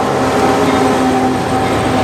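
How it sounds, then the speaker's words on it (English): A freight train rumbles loudly and steadily close by at a rail yard near an Amtrak station, with a sustained metallic hum and faint rolling clatter throughout. "There is no shortage of trains down here by the Amtrak station."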